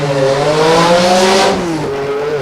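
A loud V8 race car engine roars close by at an autosprint event, its throaty pitch climbing and then easing as the car pulls away.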